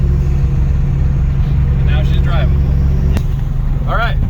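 A BMW E30 with an S52 engine swap drives along, its steady low engine drone and road rumble filling the scene, with a brief sharp click partway through and faint squeaky tones near the end.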